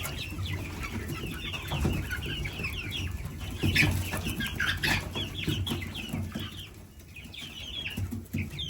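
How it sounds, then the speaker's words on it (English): Chickens and a rooster in a farmyard flock cluck in repeated bursts at close range, with occasional wing flaps and a busy, continuous backdrop of bird calls. "What's up, rooster? You're definitely a rooster."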